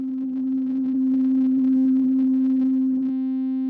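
Wavetable synth patch with Morph Spectral smoothing between snapshots: a steady, loud sustained tone with rich upper harmonics that shimmer and shift, ending in a cleaner held note after about three seconds.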